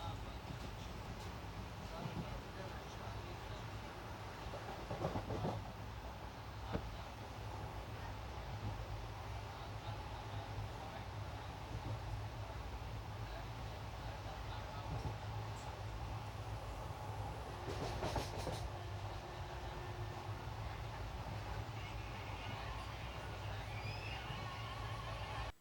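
The Matsyagandha Express, Mumbai LTT to Mangaluru, rolls through the monsoon on a loop line at a small halt station. A continuous low rumble of wheels and carriage runs throughout, swelling briefly a couple of times.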